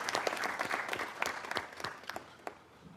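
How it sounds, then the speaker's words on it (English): Scattered applause at a Wilmington city council meeting honoring Councilwoman Oliver, with individual claps standing out over a thinner crowd and gradually tapering toward the end. "So also want to give her a round of applause as well for all the hard work she does."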